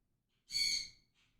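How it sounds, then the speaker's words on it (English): A pet bird gives a single short, breathy, high call in the background, faint and alone, with a fainter trailing note after it. "Can you hear my bird in the background? He sounds upset about something."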